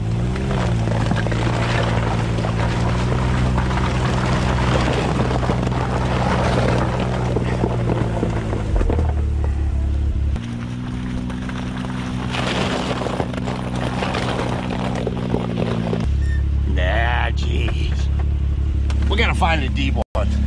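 A side-by-side UTV drives through water in winter, its engine droning loudly and steadily, with a brief dip in the middle, a sharp knock near the end and people talking over it.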